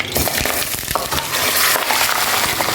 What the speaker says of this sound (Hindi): चिकन को हमने फ्राई करना है इतना कि ये गोल्डन हो जाए।